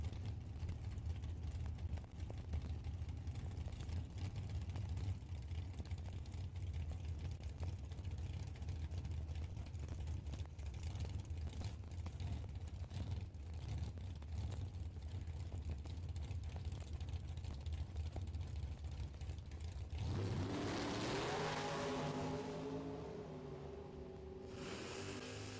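Drag race cars run at Kil-Kare Dragway, heard as a steady, distant engine roar throughout. It is faint and continuous, and it shifts to a rising, whining pass near the end.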